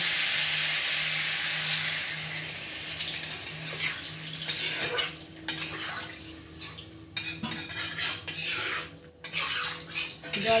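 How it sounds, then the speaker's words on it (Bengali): Spice paste with papaya and eggs frying and being stirred in a pan for an egg curry with potato, a steady sizzle running throughout with clinking utensil scrapes growing more frequent toward the end. "এবার মশলাটা কিছুক্ষণ কষবো"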